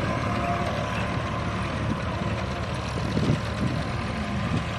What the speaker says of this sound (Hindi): ये है अपना 57 HP में ट्रैक्टर, 557 जो कि 3 सिलेंडर में ट्रैक्टर है